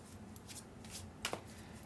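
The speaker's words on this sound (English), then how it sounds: "I love this deck, but for some reason it's a little bit harder to shuffle" A Sacred Waters Oracle deck with slightly sticky cards is shuffled faintly, giving a few soft riffles and then a sharper pair of card snaps near the end.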